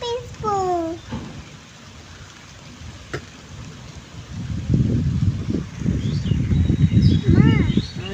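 Heavy rain falls steadily as a broad, hissing wash that swells louder in the second half, with children's voices talking over it near the start.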